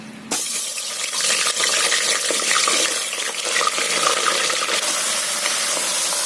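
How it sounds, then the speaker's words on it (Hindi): Mutton pieces frying in hot oil inside a pressure cooker, with a steady, close, broadband sizzle that holds evenly from start to finish after a sudden onset, and no voice over it. "तो सबसे पहले हम ये मटन को तेल में थोड़ा सा फ्राई कर लेते हैं।"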